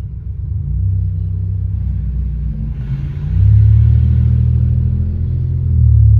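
A 1987 Camaro IROC-Z28 rumbles along as it is driven, its deep, loud engine note steady at first and then swelling as it accelerates, with no talking.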